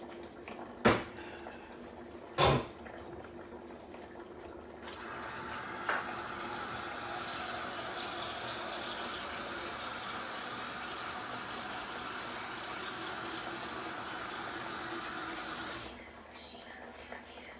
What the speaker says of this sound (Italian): Qua mettiamo a bollire dell'acqua.